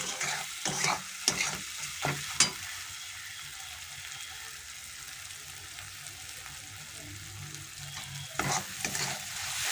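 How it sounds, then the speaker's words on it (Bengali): Egg curry masala sautéed in a pan, a soft continuous fry with bursts of spatula scraping near the start and again at the end, quieter in the middle, no talking. "ভালো করে কষিয়ে নেব।"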